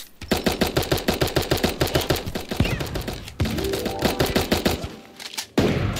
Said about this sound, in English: Let's finish him with the SMG and move.